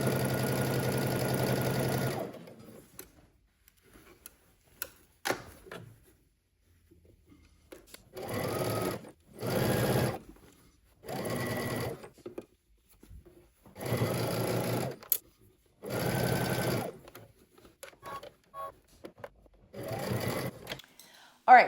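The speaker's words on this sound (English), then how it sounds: "So I'm gonna go ahead and stitch from the back to the front, and we're gonna be using 3/8 of an inch seam allowance." A sewing machine stitches a seam with a 3/8 inch seam allowance in repeated bursts of steady whirring, about two seconds each with pauses between, fairly close, and a person talks during the quieter gaps.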